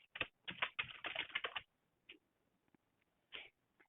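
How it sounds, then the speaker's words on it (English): A quick burst of computer keyboard typing as a meeting name goes into a calendar, crisp and close, followed by a few scattered single key taps and a short final clatter. "click on Add Title and then type in the name of your meeting"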